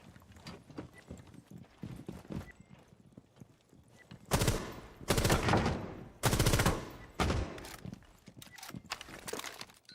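Bursts of rapid automatic gunfire in the tactical shooter game Rainbow Six Siege, dense loud volleys in several clusters after softer scattered shots and footsteps at the start.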